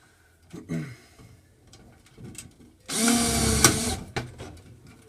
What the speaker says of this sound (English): put a couple of tappers in to secure the fixture